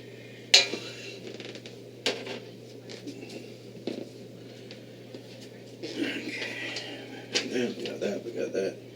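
A spatula scrapes soft butters around a mixing bowl while making a hair and body soap bar, giving light, uneven scrapes and clinks that come in loose clusters, louder and busier toward the end.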